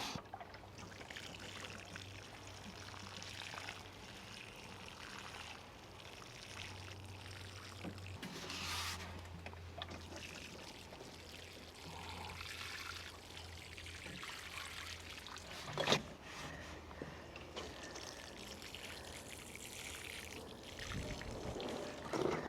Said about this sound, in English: So let's get watering.